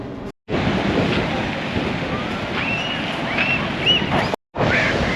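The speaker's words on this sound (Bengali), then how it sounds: "তো দেখো দেখো ঢেউ দেখো" Rough sea surf rolls in at Mandarmani beach, a loud continuous roar of waves mixed with heavy wind buffeting the microphone, briefly cut out twice.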